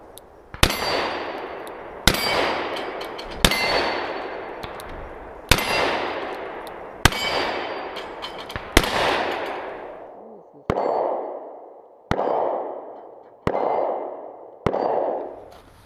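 A Smith & Wesson 686 Performance Center seven-shot revolver fires at steel targets outdoors. Nine loud shots come at roughly even intervals, and the first several each ring out with a bright metallic clang before the blasts turn shorter and duller.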